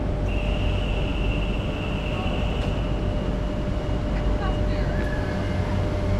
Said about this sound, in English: Departing now is an ICRM set, hauled by 2 Bombardier Trax locomotives.